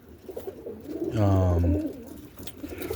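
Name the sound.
roller pigeons cooing in a loft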